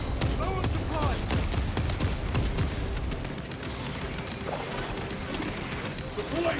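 Rapid, dense gunfire and explosions from the Space Marine 2 video game, continuous and loud across the whole stretch, with voices talking over the battle.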